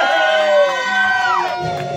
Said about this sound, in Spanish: Mari, escucha esa bulla, muchachos